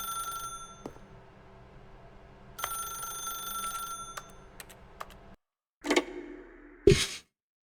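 A telephone rings in The Stanley Parable: Ultra Deluxe, repeated bell bursts over several seconds. A brief silence follows, then two short, louder clattering sounds.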